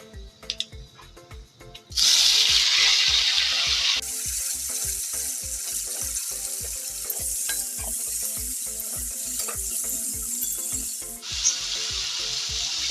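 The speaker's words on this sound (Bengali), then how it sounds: "এবার আমি টমেটোগুলি দিয়ে দেবো।" Tomatoes hit hot oil with a dried red chilli for a Bengali tomato chutney, a sudden loud sizzle that settles into a continuous frying hiss, with a steady rhythmic ticking underneath and occasional stirring scrapes.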